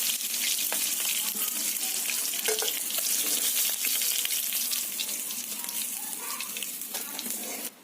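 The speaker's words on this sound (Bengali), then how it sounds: "বাকি মাছগুলোও আমি ভেজে নেব" Steady crackling sizzle of fish frying in hot mustard oil, continuous and close, with faint clinks and no voices.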